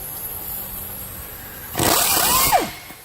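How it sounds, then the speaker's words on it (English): An Ingersoll impact ratchet fires in a short, loud burst of about a second near the end, its whine rising and falling in pitch over a steady background hum, during work on a 1994 Ford Explorer power steering pump. "Love this little impact ratchet."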